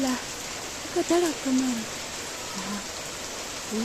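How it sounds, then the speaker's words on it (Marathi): Steady rain hisses outside a village in Nashik in a dense, even wash, with a few soft voices and short calls breaking through briefly. "मस्त पैकी बाहेर पाऊस चाललाय बघा"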